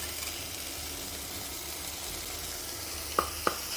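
Chicken breast pieces sizzle steadily in a stew pot over lowered heat, a continuous even frying hiss close by with two brief sharp clicks near the end.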